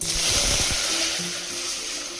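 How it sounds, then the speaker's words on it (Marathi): A mug of water is poured into a pot on a lit gas stove that already holds a spoonful of oil and a little cumin. The water gushes in loudly with a brief sizzle, then fades to a steady hiss. "आणि त्याच्यामध्ये 1 मगभर पाणी टाकीते"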